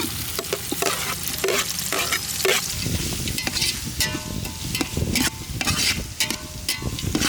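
Onions with chopped ginger and garlic sizzle steadily in a hot pan for an egg khuska rice dish, with repeated scraping stirs of a spoon breaking through the constant frying hiss.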